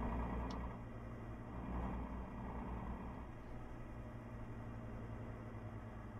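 In Euro Truck Simulator 2, a Mercedes Axor 3240 truck's engine rumbles low and steady through its exhaust, a continuous drone at moderate level with a slight swell early on.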